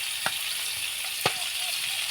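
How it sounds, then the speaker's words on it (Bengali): Fish frying in a hot wok, a steady soft sizzle and hiss with two sharp spatula taps about a second apart, no talk. "মাছ তুলে দিয়েছি, মাছগুলো সুন্দর করে ভেজে নেবো"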